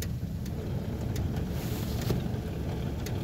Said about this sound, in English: First gear, just letting out the clutch.